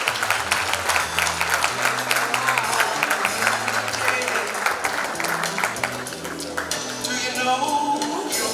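At the KZN Youth Business Awards 2022 ceremony, a crowd gives steady, sustained applause for a winner, with music playing underneath.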